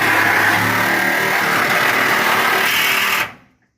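Reciprocating saw cutting into the body of a wrecked Mustang, a loud, steady buzzing drone that runs without pause and then abruptly cuts off.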